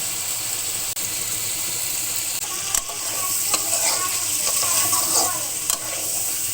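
Chicken frying in a pan as ground ginger, cumin and garlic paste goes in, a steady close sizzle with scraping stirs and a few sharp metallic clicks, no voices.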